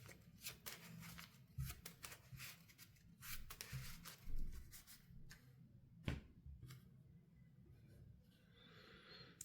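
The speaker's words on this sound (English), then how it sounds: "The other 2 are shuffled back into the deck." Arkham Horror playing cards being shuffled and handled up close at a quiet table, with rapid riffling bursts and soft slaps and taps coming in irregular clusters, faint overall.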